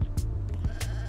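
Holland and black sheep bleating in the Roblox game Farmstead: a short, close, wavering bleat that lasts about a second, with no talking.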